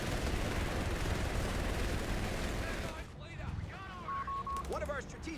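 Mortar barrage in Company of Heroes 3 during a tournament match: dense, continuous roar of shelling and explosions for about three seconds, then quieter scattered blasts with game sound effects.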